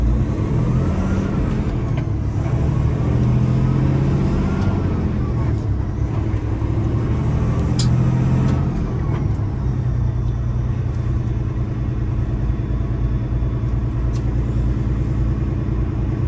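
A truck's engine pulls hard under full throttle, a continuous heavy rumble and deep drone that persist throughout, with voices talking occasionally over it.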